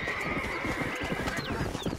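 A horse neighs in the Red Dead Redemption video game, loud and close, over a dense bed of hoof clip-clops and outdoor game ambience.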